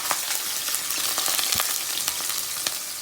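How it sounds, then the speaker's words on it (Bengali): Sliced onion hits hot oil already browning a cinnamon stick and cardamom pods for a koi fish dish, giving a loud close sizzle with sharp scattered crackles and pops throughout. "আমি এখন অনিয়নটা, পেঁয়াজটা অ্যাড করে দিচ্ছি"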